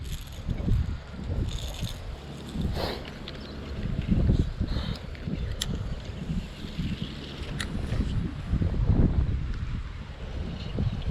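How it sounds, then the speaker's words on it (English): Strong, gusting wind buffets the microphone by a river during a fishing outing, a loud, continuous low roar with surging rises and falls and no talk. "It's very, very windy today"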